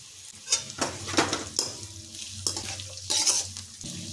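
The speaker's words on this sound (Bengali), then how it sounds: "আর সবজিগুলো ভাজতে ভাজতে দিয়ে দিচ্ছি পরিমাণ মতো লবণ।" Vegetables for a chowmein stir-fry sizzle in a pan as they are stirred, with repeated scraping strokes of a utensil against the metal and a steady crackle of hot oil underneath; no voices.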